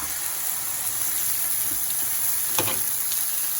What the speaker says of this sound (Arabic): هنا درت زيت العود في المقله وضفت عليه البصله.